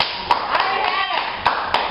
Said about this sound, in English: Okay, let's clap, people.